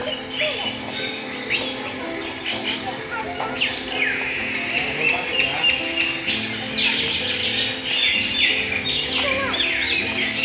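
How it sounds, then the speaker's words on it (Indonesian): A busy chorus of squawking and chirping guineafowl and other birds at a bird park in Palembang, harsh repeated calls overlapping continuously against a steady background hum. "Ini kumpulan ayam mutiara dan burung."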